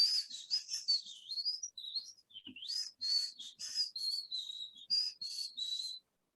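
A human voice whistles an imitation of an Oriental magpie robin's song: rapid, high, sweet warbling phrases with short trills and slides, close and clear, alone without talking.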